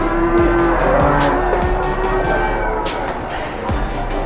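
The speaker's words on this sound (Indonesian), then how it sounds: "merupakan sapi-sapi bakalan" Young feeder beef cattle mooing at the Boyolali cattle market, several low moos and calls rising over a constant loud crowd and market din.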